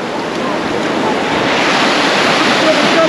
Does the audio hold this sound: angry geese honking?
no